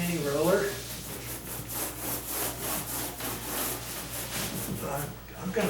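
A 1/4 inch nap mini paint roller is worked back and forth over a door, giving a steady rhythmic rubbing swish that repeats close up, with a low background hum beneath it.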